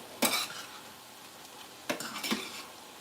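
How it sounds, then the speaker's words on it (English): Meat is pushed around a hot pan for giant nachos, with two short bursts of sizzling scrape and utensil clatter separated by quiet, faint and close. "Kind of just move my meat away from the hot part of the, pan."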